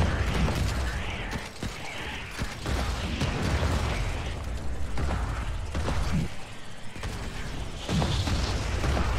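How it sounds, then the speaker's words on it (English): Rumbling booms and clanking mechanical thuds from a rocket shot exploding in the sci-fi survival game Stranded: Alien Dawn, loud and dense, with repeated low impacts over a continuous churning roar. "Oh, what a rocket shot."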